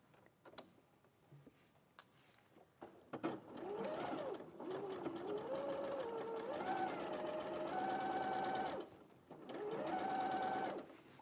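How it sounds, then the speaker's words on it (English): An Elna sewing machine stitches a seam with a steady mechanical whirr that speeds up and slows down. It pauses briefly near the end and then resumes. Close and fairly loud, after a few quiet handling sounds. "So I'll sew that one all the way around with 1 centimetre."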